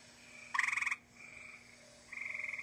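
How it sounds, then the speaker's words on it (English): An eastern gray tree frog gives two short, pulsed musical trills close to the microphone, separated by a brief pause, over a faint steady background hum. "So that is the eastern gray tree frog."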